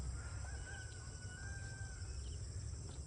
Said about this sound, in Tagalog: Manok, marami akong manok sa taas.